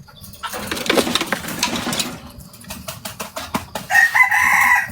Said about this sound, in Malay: Tu ayam dia.